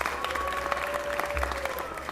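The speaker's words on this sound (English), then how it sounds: "please give another round of applause to the Central Avenue Farmers Market" Audience clapping at a city council meeting, a steady sustained patter of many hands filling the room, moderately loud with a faint crowd murmur underneath.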